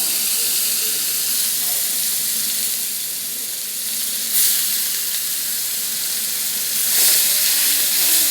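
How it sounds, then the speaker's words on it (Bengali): Onion paste sizzles steadily in hot oil that was already tempered with garam masala and dried red chillies, a loud continuous frying hiss with faint stirring scrapes, heard up close with no talk, for a yoghurt-style catla fish curry. "এবার আমি এর মধ্যে দিচ্ছি হচ্ছে পেঁয়াজ বাটার পেস্টটা।"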